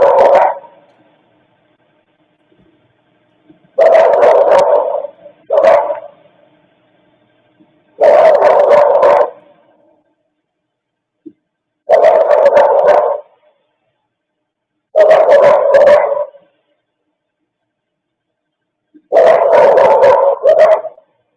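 Dogs barking in security camera footage, sounding in separate bursts of several barks each, spread across the stretch with quiet gaps between them, fairly close and clear.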